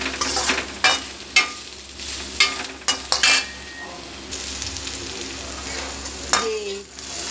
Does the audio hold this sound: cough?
no